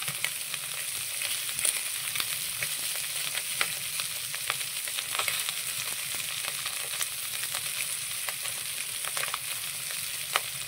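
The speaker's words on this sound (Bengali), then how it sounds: "এখন শিং মাছটা কড়াই দিয়েছি, কিন্তু কাছে বসা যাচ্ছে না, একটু জোরে জোরে তেলের উপর দিয়েছি তো ফাটছে" Shing fish frying in hot oil in a wok make a loud, continuous sizzle close by, peppered with sharp popping and spluttering crackles all the way through.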